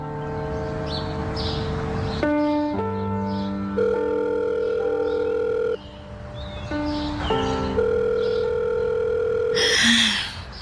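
A telephone handset plays a stepped series of electronic ringback and dial tones while a caller waits for an answer, the loud steady tones switching pitch every second or two, with a brief noisy burst near the end.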